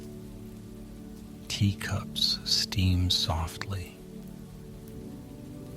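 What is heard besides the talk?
rain falling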